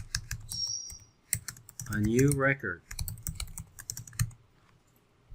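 Typing on a computer keyboard, with fast, clicky keystrokes coming in short bursts, close and clear, while a person speaks briefly in the middle.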